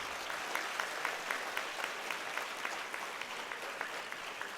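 Applause from a conference hall audience of accounting students, a steady, even wash of many hands clapping at a distance, fairly faint, sustained throughout with no voices on top.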